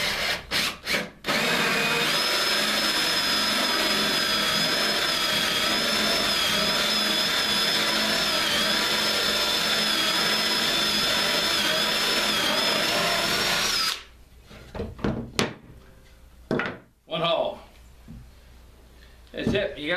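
A drill with a hole saw boring a 1.5 inch hole through wood for a bluebird house, a loud sustained grinding whir for over ten seconds, then stopping as someone talks with a few clatters and handling noises.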